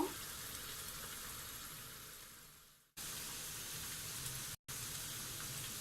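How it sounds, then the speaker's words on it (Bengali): Pumpkin pieces fry in a pan with a steady, even sizzle that hisses on without a break, with two brief cuts in the sound. "আমি এগুলো একটু ভেজে নেব মিষ্টি কুমড়াগুলো।"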